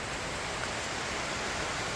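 Heavy rain pouring down on a tent while camping in a dense forest, a dense, constant roaring hiss that fills the whole moment without a break or any voices.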